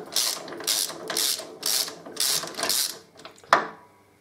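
Ratchet wrench undoing the swingarm bolts on a Harley-Davidson Electra Glide, six rapid bursts of clicking close by, followed by a sharp metallic knock near the end.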